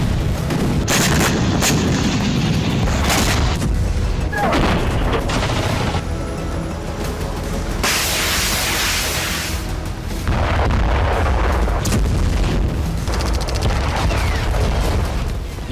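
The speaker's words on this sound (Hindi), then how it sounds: "रूस की धरती पर एक के बाद एक कई धमाके हुए।" Drone and missile strikes on Russian soil set off a series of loud, close explosions and booming blasts, one after another, with rumbling and crackling gunfire-like bursts across the whole stretch.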